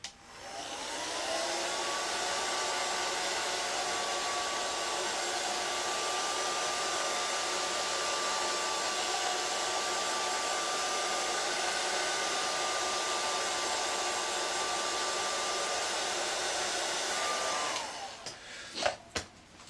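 A hair dryer fitted with a diffuser attachment, used while working on latex zombie makeup, blows in a loud, steady whoosh for about seventeen seconds, then cuts off with a few clicks and handling knocks.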